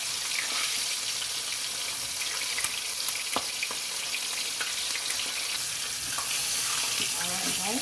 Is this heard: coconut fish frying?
yes